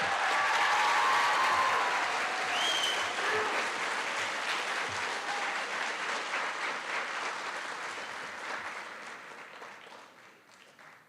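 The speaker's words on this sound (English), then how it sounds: "Please give a round of applause for the Class of 2025" An audience at a high school senior graduation applauds the Class of 2025 in a steady, full round of clapping that gradually fades over about eleven seconds, with a few faint shouts mixed in.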